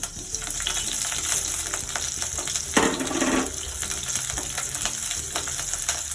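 Chopped green and red chillies hit hot oil with popping mustard seeds, making a steady loud sizzle with crackling pops and a brief burst of hissing as they land, close to the pan.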